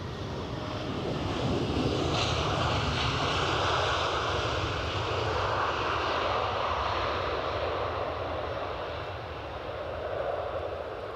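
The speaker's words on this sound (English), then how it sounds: "KLM are taxiing out with their Embraer 175" A KLM Embraer 175 jet taxis out at Edinburgh airport, its engines a steady broad roar that swells slightly and holds close by, mixed with wind buffeting the microphone, with no talk over it.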